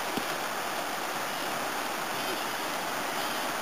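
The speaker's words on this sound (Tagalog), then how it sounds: "Narinig namin yung Agos ng tubig." A waterfall on a group outing pours in a loud, constant broadband rush of flowing water, steady and unbroken throughout with no clear talk over it.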